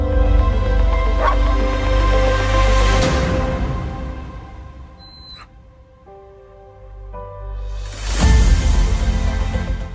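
A dog barks and whimpers over several seconds, the sound mixed with a musical score and loud swells, fading low in the middle before rising again.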